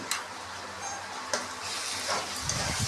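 Masala spices fry in a pan alongside meat, giving a steady broadband sizzle broken by a few sharp scraping clicks from stirring, fairly close and without talk.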